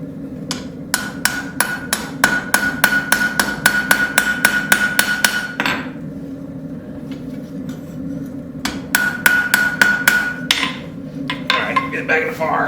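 Rapid hammer blows ring out while forging a railroad spike into a knife on an anvil, two long runs of fast, evenly spaced metallic strikes with a short pause between, loud and close, no talk.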